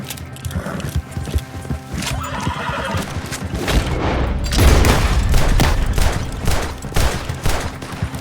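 A horse neighs over clip-clopping hooves amid bursts of gunfire during a carriage robbery in Red Dead Redemption 2, a busy, dense game soundscape.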